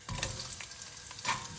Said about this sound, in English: In goes the onions just for 2 minutes.